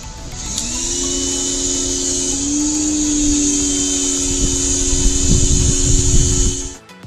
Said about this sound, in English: I got started pressure washing and finishing up that corner